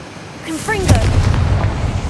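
The Confringo blasting spell in the video game Hogwarts Legacy: a short spoken incantation, then a sharp explosive burst followed by a rolling rumble that fades over the next second.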